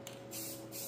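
A spray can lays a light dust coat of paint on a coilover part for a Ford F-100, a brief close hiss lasting under a second.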